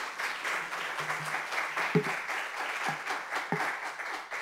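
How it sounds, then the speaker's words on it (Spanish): Steady clapping from an audience, moderately loud, continuing throughout with a few louder thuds scattered in. "Le damos un aplauso."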